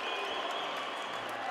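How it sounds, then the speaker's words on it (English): A college basketball crowd of Loras fans roars and applauds in a gym, sustained and dense, after a three-pointer against North Central College, heard from a distance with no clear talk on top. "Josh Ruggles with an unbelievable 3 to get the Loras crowd deafening."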